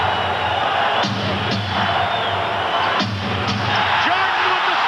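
A packed Chicago Stadium crowd at a 1992 Bulls–Knicks playoff game, roaring steadily with scattered whoops and a couple of sharp slams, a broad continuous wash of noise held at a steady level throughout.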